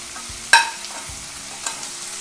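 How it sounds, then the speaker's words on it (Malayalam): Onions sauté with salt in a pan, a soft sizzle under a few stirring scrapes, one sharp clink of the utensil near the start and a fainter one later. "ഇനി നമുക്ക് ഉള്ളി വഴറ്റിയെടുക്കാൻ ഒരല്പ സമയം എടുക്കും."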